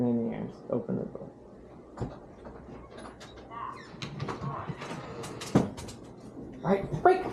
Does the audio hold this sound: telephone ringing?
no